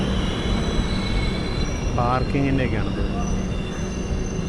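A 22113 Kochuveli Superfast Express train rumbles steadily in a station, with metallic wheel squeals and a brief horn-like tone rising over the continuous rail noise while someone talks.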